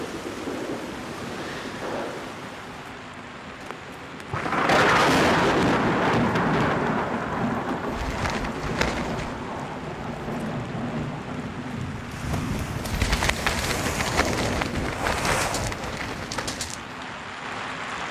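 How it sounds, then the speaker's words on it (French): A mountain thunderstorm roars with gusting wind and rumbling thunder, a loud, continuous wash of noise that swells sharply after a few seconds and stays heavy throughout. "je n'ai jamais vu un orage pareil"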